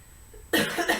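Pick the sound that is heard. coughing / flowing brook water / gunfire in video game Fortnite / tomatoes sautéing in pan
coughing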